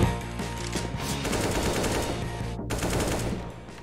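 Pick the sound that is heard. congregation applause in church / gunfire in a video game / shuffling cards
gunfire in a video game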